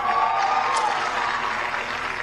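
Crowd applause for a school principal at a campaign rally in Elkhart, Indiana, a steady wash of clapping and faint cheering, moderately loud and continuous.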